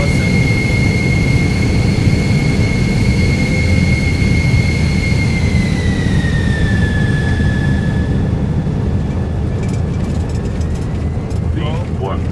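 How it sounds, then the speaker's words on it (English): Jet engines of a Lufthansa Airbus A340-300 in flight give a steady, loud cabin roar with a high whining tone that slowly dips in pitch, and a voice talks over it. "those huge jet engines were pushing them towards that"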